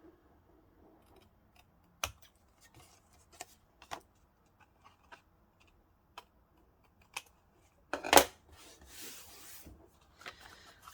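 Scissors snipping paper in a quiet craft setting, a few sparse clicks and cuts spread out with a rustling handling sound near the end.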